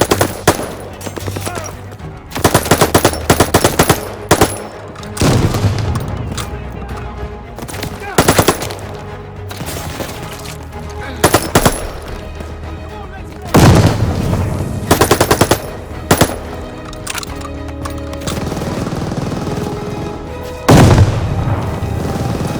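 Machine gun fire in Call of Duty Vanguard's Operation Tonga mission, loud bursts of automatic fire and booming impacts repeating every few seconds over a steady battle din, with brief shouted orders.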